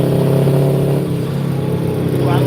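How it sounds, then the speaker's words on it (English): A 1985 truck's Detroit diesel engine running close by, a steady, loud, low droning rumble with a slight rise near the end and no talking over it. "I love the sound of that Detroit."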